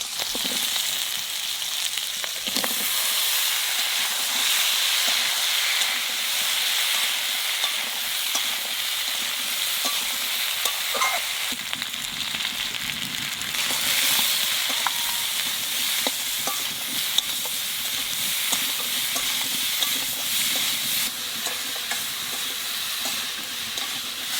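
Pieces of green banana frying in a pan, a steady bright sizzle and hiss with intermittent scraping stirs, close and continuous throughout.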